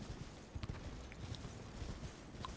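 Giants harnessed like horses pull a carriage in Elden Ring, their hooves making faint, distant, irregular clip-clopping thuds over a low ambient bed.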